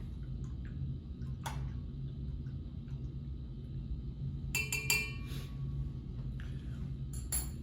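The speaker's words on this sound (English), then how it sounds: "let me go ahead and give this a stir" A spoon clinks against a glass beaker while stirring a Kool-Aid solution, a few sharp, bright taps in quick clusters over a low, quiet rumbling background.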